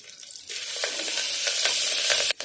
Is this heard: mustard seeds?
yes